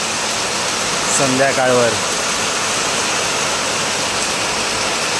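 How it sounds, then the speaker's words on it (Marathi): Steady rain falls outdoors during monsoon festival preparations in a Konkan village, a continuous broadband wash that holds evenly throughout, with a person speaking briefly over it near the start. "पाऊस सुरू झालाय"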